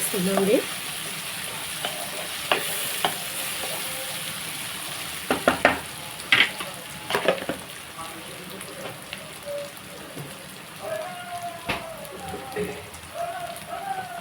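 Salt and chili powder are stirred into a sizzling curry, continuous crackling fry noise with scattered spoon clinks and scraping, while a voice talks intermittently over the cooking.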